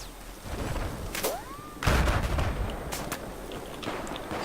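Gunfire during a Battlefield match: a few sharp distant shots and thuds crack over a low background of battle noise, with a whooshing sweep just before a louder burst.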